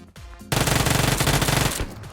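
Uzi fire in a mobile shooter game, one rapid sustained burst of automatic shots, loud and close, lasting over a second after a short quiet lead-in.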